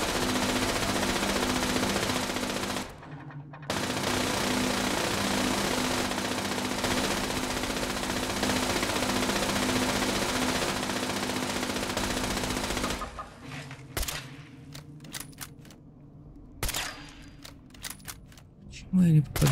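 An ultra turret in Fallout 76 fires long, loud rapid bursts with a short pause, then switches to scattered single shots and clicks as people talk.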